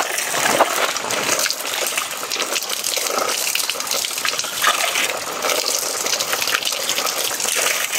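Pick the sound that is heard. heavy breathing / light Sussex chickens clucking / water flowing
water flowing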